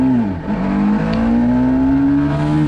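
BMW 310 R motorcycle accelerating hard uphill in a speed test, its single engine droning loud and close with a steady rising whine that dips briefly at a gear shift, then climbs again, with no talking.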